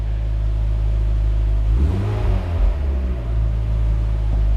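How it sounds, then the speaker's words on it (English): Mazda Miata NC engine after fresh spark plugs, a steady low idle that dips briefly as revs settle down, close and continuous with no talk. "Let it idle down, clutch out."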